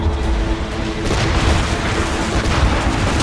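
Ship cannons booming in Assassin's Creed Rogue during a naval assault on a fort, heard as a loud, continuous barrage of deep rumbling blasts and bursts close by, with no clear talk.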